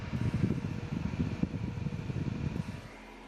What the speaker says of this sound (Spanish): Cuando yo le dé, los ventiladores van a empezar a hacer mucho ruido.